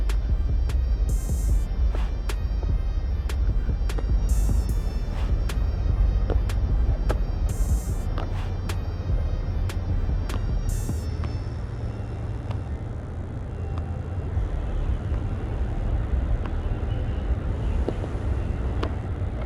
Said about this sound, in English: Military jet.